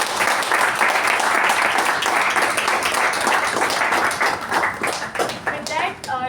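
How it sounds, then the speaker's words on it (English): A large crowd applauds loudly and continuously at a Toastmasters meeting, with dense overlapping clapping that thins slightly toward the end while voices murmur underneath. "Please give them a huge round of applause."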